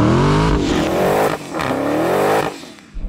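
A Dodge Challenger Demon revs hard at the drag strip line while warming its tyres, with loud rising and falling engine roars, two brief dips and a final burst, close and alone.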